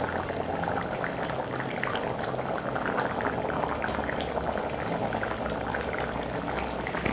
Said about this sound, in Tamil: இப்போ வந்து பார்த்திங்கன்னா குழம்பு நல்லா கொதிக்க ஆரம்பிச்சிடுச்சு